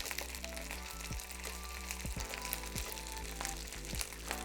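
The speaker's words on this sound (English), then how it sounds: "So I'm gonna add it to my pan now that the oil is hot." Pieces of crispy rice snack fry in hot oil in a pan with a dense, continuous close sizzle and occasional soft pops and crackles throughout.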